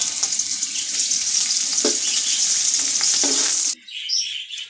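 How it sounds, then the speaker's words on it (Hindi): Onions frying in a quarter-measure of hot oil in a large cooking pot for chicken mandi, a steady loud sizzle and hiss running continuously, with a few stirring scrapes, then cutting off abruptly near the end. "प्याज फ्राई करते हैं।"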